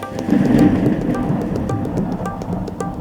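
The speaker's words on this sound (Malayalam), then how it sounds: "മഴ വരുന്നു എന്ന് തോന്നുന്നു." Steady rain patters loudly and close throughout, with a low rumble of thunder swelling early and then settling into a continuous wash of falling water.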